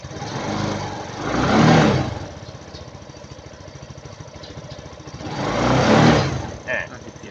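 A Suzuki Jelato scooter engine, having trouble starting, idles close by and twice swells into a rev before settling back, with a short rise near the end.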